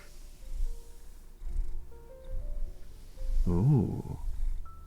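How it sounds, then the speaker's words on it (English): Soft purring from a cat being petted on the head, a low rumbling burst near the end amid quiet room noise, with a person's voice murmuring gently around it. "starting to purr a little bit now"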